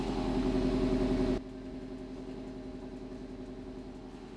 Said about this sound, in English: I'm not hearing any ticking, and the exhaust sounds pretty good too.